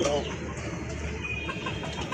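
Pigeons at a pigeon market, soft cooing and fluttering calls mixed into a dense, noisy background with people talking nearby, close and continuous.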